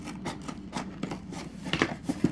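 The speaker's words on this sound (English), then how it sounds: "I think I have scissors." Scissors snip and rustle through packaging at close range, a series of short crisp cuts that grow sharper toward the end.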